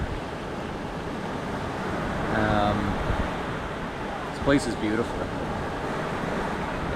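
Ocean surf at Siargao in the Philippines washes in as a continuous low roar, with a voice speaking briefly over the steady wash.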